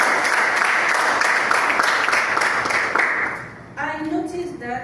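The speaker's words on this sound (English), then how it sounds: "let us give a thunderous round of applause for whoever designed this flyer" An audience at a Toastmasters club meeting applauds, a dense burst of many hands clapping that fades out near the end as a voice begins speaking.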